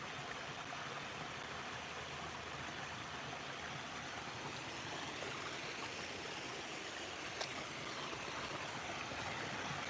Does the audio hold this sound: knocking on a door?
no